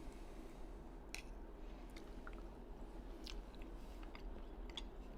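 Spoonfuls of homemade peach cobbler are chewed close to the mic, producing faint soft squishy bites and mouth sounds with a few small crisp clicks over a low hum, with no speech.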